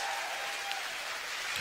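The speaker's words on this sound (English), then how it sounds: "Give yourselves a round of applause." An audience of engineering and maths students applauds at a talk, a steady wash of clapping lasting under two seconds.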